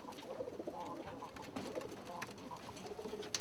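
A mixed flock of Arabian trumpeter and Thai laugher pigeons cooing, faint and soft, in a continuous murmur of overlapping rolling coos with light background noise.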